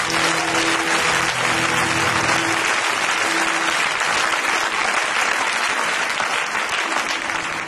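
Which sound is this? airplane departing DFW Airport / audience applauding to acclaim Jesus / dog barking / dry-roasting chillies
audience applauding to acclaim Jesus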